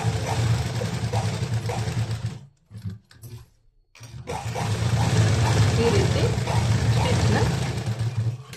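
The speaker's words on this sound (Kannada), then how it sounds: "ಇವಾಗ ನೆಕ್ಸ್ಟು ಈ ಸೈಡನ್ನು ಕೆಳಗಡೆಯಿಂದ ಮೇಲ್ಗಡೆವರೆಗೂ ಹಂಗೆ ಸ್ಟಿಚ್ ಹಾಕೋಬೇಕು" An electric sewing machine stitches a blouse seam with a steady, loud mechanical whirr that halts briefly for a second or so and then starts running again. No speech can be made out.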